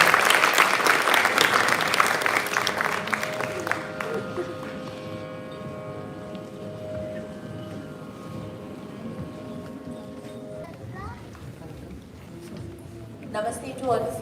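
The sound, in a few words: audience applause at a performance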